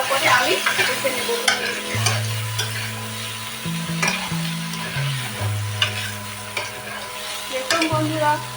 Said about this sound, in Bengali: টমেটো দিয়ে পরে ভালো করে আমি কষে নেব